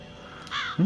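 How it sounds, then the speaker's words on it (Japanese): Crows cawing in a zombie survival video game, two or three harsh calls close together, loud and clear over a quiet game background. "カラスは元気だね。 こんな時でも。"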